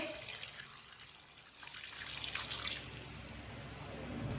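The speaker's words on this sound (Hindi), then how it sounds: "1 गिलास पानी डाल लेंगे।" Water poured steadily from a glass into a pot of onions, a close splashing trickle that continues throughout with a soft, even flow.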